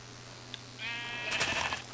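A Minecraft sheep bleats once in a loud, wavering cry that rises sharply, over a low steady hum, with no talking.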